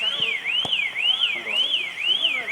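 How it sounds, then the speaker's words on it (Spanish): A car alarm wails in a repeating rising-and-falling siren sweep, loud and continuous, with a few faint thuds and traces of voices underneath. "Es sensible la alarma, boludo."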